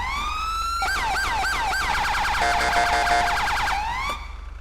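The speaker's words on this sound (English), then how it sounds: "That is the FHP siren." FHP police siren from a new siren pack in GTA5 RP, loud and close, first a rising wail, then rapid yelping sweeps, then a fast alternating tone that cuts off near the end.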